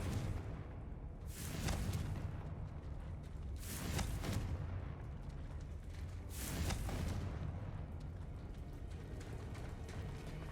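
Three booming Confringo blasting-spell explosions from Hogwarts Legacy erupt about every two and a half seconds, each a broad burst over a steady rumbling background with no talking.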